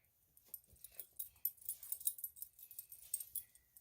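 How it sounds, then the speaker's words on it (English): A pet dog named Cooper whimpering and whining in a car, a series of soft, breathy, high-pitched yelps and whines repeating in quick irregular bursts, close and fairly quiet, with no talking. "we also bring my dog Cooper"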